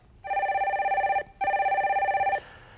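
A telephone rings for an incoming caller on a Korean stock-market call-in broadcast, sounding as two long, steady rings close up, separated by a brief pause, with no talk over them.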